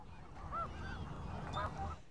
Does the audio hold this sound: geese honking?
yes